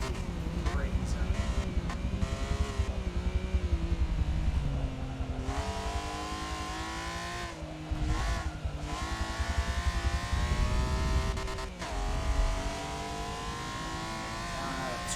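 Race car in Forza 7 roaring at high revs along a straight, pitch climbing and dropping through gear changes with tire noise, loud and continuous while someone talks over it.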